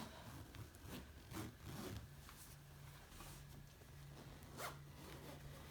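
A sleeping bag is zipped closed with both zipper pulls held together, giving a string of short rasping zip strokes, close and fairly quiet, alone with no talk.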